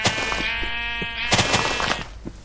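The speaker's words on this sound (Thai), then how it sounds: "น่านแกะ" Sheep bleating in the game Minecraft, a wavering, harmonic-rich bleat sustained over about a second, followed by a second shorter bleat, close and loud over soft game background.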